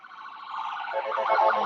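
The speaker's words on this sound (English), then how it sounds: "It's another ambulance." An ambulance siren wails in rising and falling tones, starting faint and growing louder as it approaches over a quiet background.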